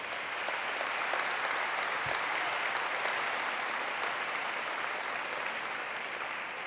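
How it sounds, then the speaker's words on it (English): Gala audience applauding in a large room, a steady, even roar of many hands clapping that sustains at full strength throughout with no talking over it. "A round of applause for them."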